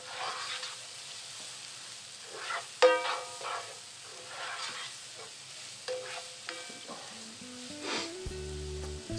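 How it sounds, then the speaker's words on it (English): Onions and carrots frying and sizzling in a hot pan with white wine outdoors, a steady crackle with occasional stirring scrapes and clatter, moderately close, ending in a louder burst of hiss. "Get a bit of a sizzle going on."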